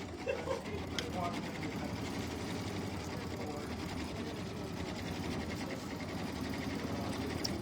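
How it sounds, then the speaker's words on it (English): A quilting machine stitches an off-white cream thread pattern across a quilt, giving a steady, continuous mechanical hum with fast rhythmic needle pulses throughout, while people talk over it. "so our next stitch is going to be our quilting"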